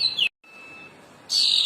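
A Cendana bird sings clear, high whistled notes: a sliding call, a brief pause, a long thin held tone, then a bright burst of chirping, close and alone.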